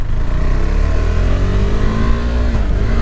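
A KTM 390 Adventure's single-cylinder engine revs as the throttle opens on a test ride in extreme weather, a loud, steady, close drone with a pitch that climbs gradually under rushing wind noise.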